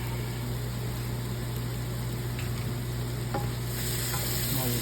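Garlic fries in a pan for a brisket stroganoff, making a dense, continuous sizzle over a constant low hum. It is loud and close, with faint scrapes from stirring toward the end.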